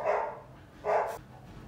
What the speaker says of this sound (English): So I've tried my best to calm the pit bulls down, but if you hear them barking